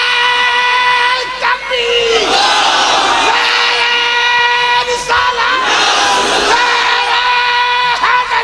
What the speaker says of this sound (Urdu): نعرہ لگے تو یہاں سے وہاں تک ایسے جواب دو جیسے علی کے غلام جواب دیتے ہیں.